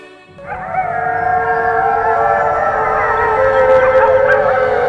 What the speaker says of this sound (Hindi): दिन में सियार के रोने की आवाज।